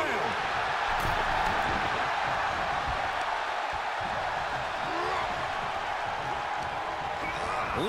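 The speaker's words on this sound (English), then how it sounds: "The sound of this crowd is deafening, and he's asking for more" Wrestling arena crowd roaring during a handicap match with Brock Lesnar and Roman Reigns, a dense continuous din of cheering with scattered thumps, heard under an announcer's voice.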